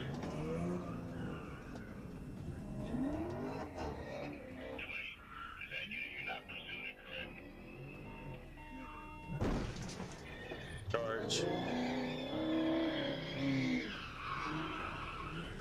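A silver Dodge Challenger speeds through traffic with tires squealing and skidding, engine roaring, before slamming head-on into a police vehicle with a sharp crash, all heard under overlapping talk, fairly faint overall.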